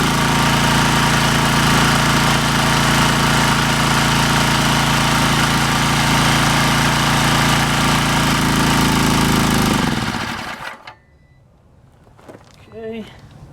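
A gasoline-powered portable air compressor engine running loud and steady at raised throttle, a dense constant drone that suddenly winds down and stops near the end, followed by faint handling noises.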